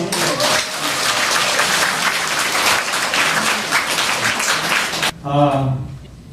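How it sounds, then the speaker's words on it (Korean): An audience at an essay recitation contest and year-end gathering gives a loud, sustained round of applause for about five seconds, then it stops abruptly and a voice speaks. "여러분 박수 한번 더"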